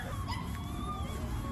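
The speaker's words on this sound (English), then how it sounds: "Dogs found something they want to bark at." Dogs on a woodland trail give a short burst of yelping barks and whimpers, fairly close, over steady background noise.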